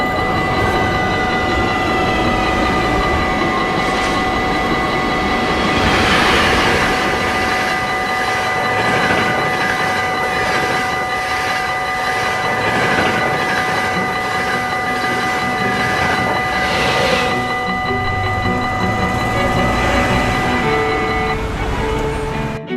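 A KRL commuter train in Indonesia rumbles along the rails with steady rolling noise and rhythmic clacking, while high electric whines rise and fall throughout.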